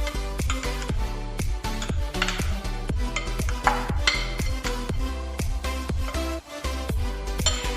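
A utensil stirs Maggi noodles with turmeric and red chili powder in a pan, making quick, regular scraping knocks against the metal over a faint sizzle, close and loud.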